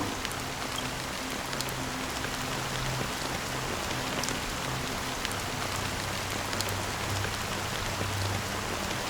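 Steady rain falls in the video game Honkai Star Rail, a dense, even hiss of drops on surfaces that continues unbroken throughout, with faint low tones underneath and no talking.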